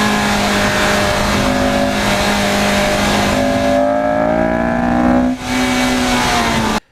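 A Honda K-series VTEC car engine revs hard and loud, its pitch climbing steadily for several seconds, briefly dipping, then surging again before cutting off abruptly.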